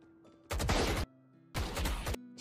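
Two short, loud bursts of rapid automatic gunfire in Valorant, separated by a brief pause with faint game tones underneath, then a third burst starting at the end.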